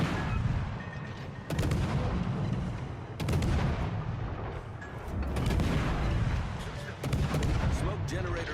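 Naval gunfire in a warship video game, repeated heavy booming salvos every couple of seconds over a rumbling battle bed, with a player talking over it.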